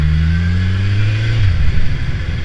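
A loud Kawasaki Z1000SX motorcycle engine drops in pitch as the revs fall under engine braking, then rumbles unevenly at lower speed.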